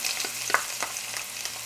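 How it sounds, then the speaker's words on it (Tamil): Chopped onions dropped into hot oil while making rajma masala, giving a steady close sizzle with a few sharp stirring clicks and spatters. "இப்போ நான் பொடியாக நறுக்கி வச்சுருந்த வெங்காயத்தை சேர்த்துக்கிறேன்."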